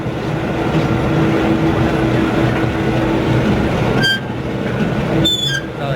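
A cable car racer carnival ride at a fiesta rumbles loudly and steadily like rolling rail cars, with a constant mechanical roar and brief high squeals near the end.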